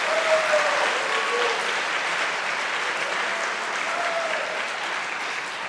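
Dense, steady audience applause fills a FIRST Robotics Competition kickoff ceremony in Atlanta, Georgia in 2023. It holds at an even level for about six seconds, with no talk over it.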